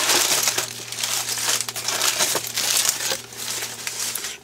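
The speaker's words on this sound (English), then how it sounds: "Sorry about the crinkling." Plastic packaging crinkles and crunches steadily while a box of books is opened, a close, continuous rustling with sharper crackles throughout.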